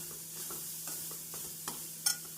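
Vegetables with carrot sizzle softly in a pan on a gas stove while a utensil stirs and scrapes now and then, with no talking.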